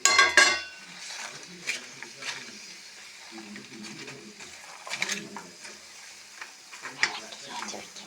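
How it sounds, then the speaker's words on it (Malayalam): A pan of pappadam curry with coconut milk is stirred, giving soft scraping and clinking of a spoon against the pan over a low simmering sizzle, with a few sharper knocks. "ഇളക്കി നല്ലതുപോലെ യോജിപ്പിക്കാം"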